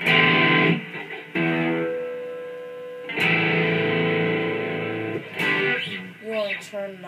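Electric guitar with the distortion turned up, playing a riff: loud, sustained distorted notes and chords ring out in several bursts separated by brief breaks, with no talking.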